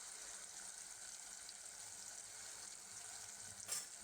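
Fenugreek leaves and moong dal mixture with turmeric sautéing in a pan, a steady soft sizzle throughout with a brief louder stir near the end.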